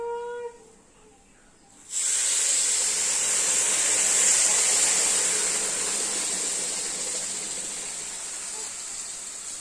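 Hot water poured into a pan of frying pulao sets off a sudden loud, steady hiss that lasts several seconds and slowly fades, after a brief faint tone and a short quiet gap.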